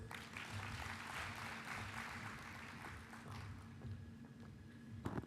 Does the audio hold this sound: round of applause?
yes